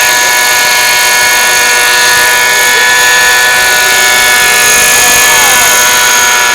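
A radio-controlled model helicopter flies near a fishing spot, its high-pitched engine and rotor whine loud and continuous, shifting slightly in pitch as it moves.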